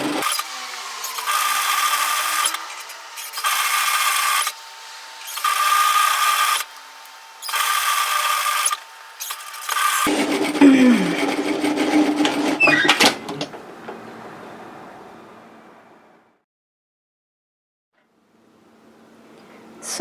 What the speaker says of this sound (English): I'm going to sew it directly parallel to the first line on the side that I folded.